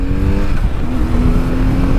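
The engine of a BMW R1150GS motorcycle pulls hard under acceleration, a loud, close, continuous throaty drone with a low tone climbing steadily as revs build.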